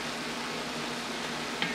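Mushrooms frying in a soup pot with sweated onions, a soft, steady sizzle at low level with no voices, a faint clink near the end.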